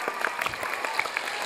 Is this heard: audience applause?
yes